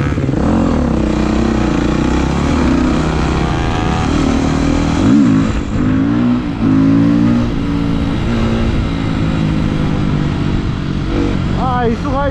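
A motorcycle with an aftermarket Akrapovič exhaust idles and revs close up, deep rumbling exhaust with rising blips throughout, a short sharp rev near the end.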